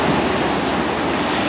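Sea waves wash steadily onto the beach at Viña del Mar in Chile, a loud, continuous roar of surf with wind-like hiss and no voices.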